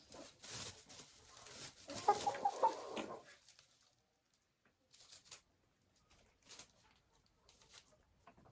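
Two young laying hens cluck close by in a busy burst, then quieter scattered clucks and rustles follow after a brief pause.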